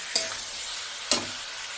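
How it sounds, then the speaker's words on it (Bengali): Chicken meat sautéing in a pan, added to fry down with salt: a steady close sizzle with two sharp stirring scrapes against the pan, and no talking. "আর এই মাংসটা এখন দিয়ে দিচ্ছি তারপর দশ মিনিটের মতো কষিয়ে নেব"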